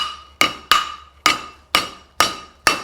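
Hammer blows ring on a horseshoe at the anvil while a caulk and feather shoe is forged. Six sharp metallic strikes fall at a steady, unhurried pace, each followed by a bright ringing decay, close and clear, with no talking.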